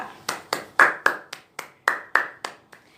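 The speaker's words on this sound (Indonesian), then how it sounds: "Kita berikan aplaus dulu ya untuk hasil diskusi kelompok 2." Classroom applause for a student group's discussion results: about a dozen sharp, evenly spaced claps over three seconds, sounding like a small group clapping in unison, moderately loud with no talk.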